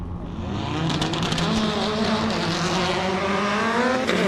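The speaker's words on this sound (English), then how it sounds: "Launch control engaged by Dougie Johnson. Is GC8 WRX." A Subaru GC8 WRX launches on launch control at a national hillclimb in South Australia. The engine roars loud and close, climbing steadily in pitch through the run, with a faint voice underneath.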